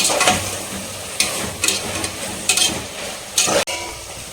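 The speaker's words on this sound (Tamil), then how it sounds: "சேர்த்துட்டு ஹை ஃப்ளேம் பண்ணிவிட்டு இப்போ எல்லாம் சேர்த்து மிக்ஸ் பண்ணிட்டு நல்லா வதக்கிட்டு" Mint and masala for a meat curry sautéed on high flame, with close, bursty scraping stirs against the pan over a steady sizzle, several sharp strokes in quick succession.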